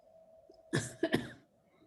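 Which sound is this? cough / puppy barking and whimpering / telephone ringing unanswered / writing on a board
cough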